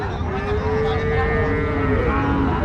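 A native calf at a crowded cattle market lets out a long, drawn-out moo close by, over a dense background hum of the market.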